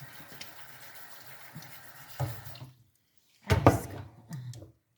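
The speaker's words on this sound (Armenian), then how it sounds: "Շատ քիչ է ջուր կլցնենք, որ հենց իր ջրով էլ էլծի։" A small amount of water is poured into a cooking pot, heard as two short splashing runs separated by a brief pause, close and moderately loud, with no talking.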